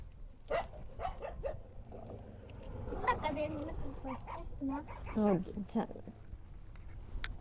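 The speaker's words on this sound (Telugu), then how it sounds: "ఇక్కడ ఉన్న కుక్కలన్నీ అరుస్తున్నాయి." Several dogs bark and yip in bursts, some near and some farther off, mixed with people talking over a steady background hum.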